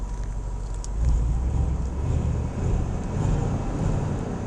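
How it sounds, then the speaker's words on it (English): Stock exhaust of a 2016 Range Rover Sport idling, a quiet steady low rumble with slight swells, close by and alone with no talk. "Let's hear this exhaust."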